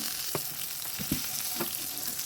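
Eggplant slices fry in oil in a pan with a constant, dense sizzle close up, and a few soft knocks and scrapes of a utensil on top.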